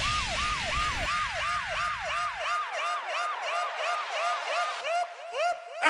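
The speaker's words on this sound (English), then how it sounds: "That's the sound of the police!" Wailing police siren, a fast repeating yelp sweeping up and down in steady cycles, loud and fairly close, with a low rumble of traffic at the start that soon drops away.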